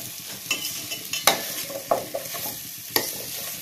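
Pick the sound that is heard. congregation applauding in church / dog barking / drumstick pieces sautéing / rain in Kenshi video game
drumstick pieces sautéing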